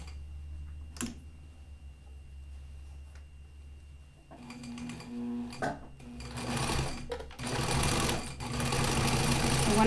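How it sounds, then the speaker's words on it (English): A sewing machine starts after a quiet stretch with a few clicks, then runs in bursts of rapid mechanical stitching, close by, with brief pauses between runs. "So now let's get back to sewing machine."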